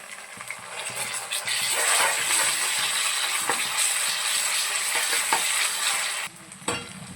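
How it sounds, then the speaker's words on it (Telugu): Ginger paste is stirred into browned onions frying in a pan, giving a steady loud sizzle with scraping spoon strokes and occasional clinks against the pan. "అల్లం పేస్ట్ వేసి ఒక వన్ మినిట్ అయితే బాగా కలపాలి"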